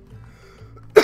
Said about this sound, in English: Still got the cough, you know?